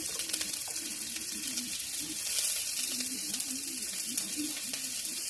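Chopped onion sizzles steadily in a hot kadai, a continuous frying hiss with faint clinks of stirring throughout, heard close and without talk.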